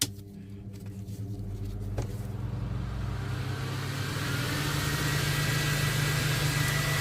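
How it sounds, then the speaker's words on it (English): A steady, loud whooshing hum of a fan builds up in the first seconds and then runs continuously close by, with a low droning undertone. "Sorry about the fan, but I don't really want to be breathing too much of this in."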